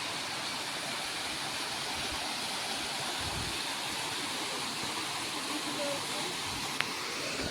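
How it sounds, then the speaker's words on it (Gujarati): Dhareda waterfall in Banaskantha, source of the Saraswati river, roars as a steady broadband rush of falling water that fills the whole clip, with faint voices now and then beneath it. "તો તમે આપણા પાછળ જે વોટરફોલ જુઓ એ ધરેડાનો ધોધ છે"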